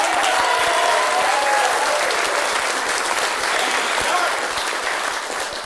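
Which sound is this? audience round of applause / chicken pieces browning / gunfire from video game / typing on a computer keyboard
audience round of applause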